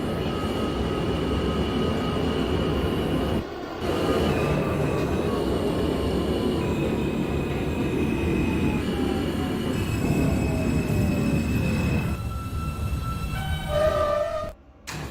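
R160 New York City subway train on an R line run toward Forest Hills-71 Av, simulated in OpenBVE: a loud continuous rumble of wheels on rail with long squealing tones, a brief dip near the end, no talk.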